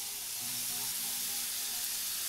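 Dipped eggplant slices fry in a pan for a Marathi vangi fry, giving a soft, steady sizzle and hiss that holds evenly throughout with no talking.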